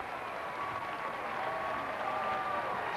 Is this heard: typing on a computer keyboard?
no